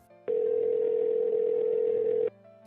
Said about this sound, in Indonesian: Nirai pun lalu menelpon Sakura.